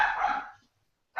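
A dog yelps in a scene from Star Wars: The Force Awakens. There is one short, fairly loud cry, then a brief silence before another yelp starts.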